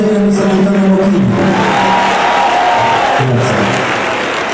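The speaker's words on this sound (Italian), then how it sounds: "Facciamo un applauso serio per San Antonio Bocchini." Concert audience at a show in Villa di Briano applauding and cheering, a loud, dense, unbroken wash of crowd noise with scattered shouts throughout.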